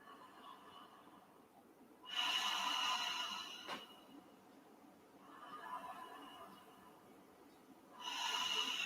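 Slow Ujjayi breaths with the back of the throat constricted make soft, airy rushing sounds. Three drawn-out breaths come in and out at a calm, even pace, close and quiet.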